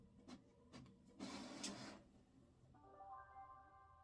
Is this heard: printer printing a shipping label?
yes